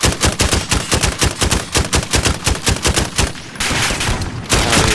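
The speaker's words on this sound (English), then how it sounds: "So it does this weird 2-round burst kind of deal every so often" RAAL MG machine gun in Call of Duty Modern Warfare firing a rapid, even stream of loud, close shots, then a short pause and more fire with a different tone, with no talking.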